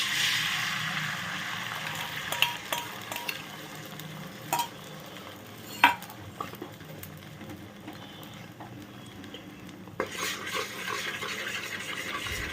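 Beaten eggs seasoned with salt and chili powder hiss and sizzle in hot oil while a utensil stirs and scrapes the pan, with a few sharp clinks standing out above the continuous frying.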